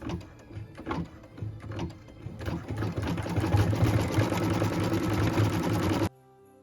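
An embroidery machine stitches the strings holding the N and E baubles on a Christmas Noel tree skirt in dark red thread, a steady rapid mechanical whir that starts softer and grows louder before cutting off near the end.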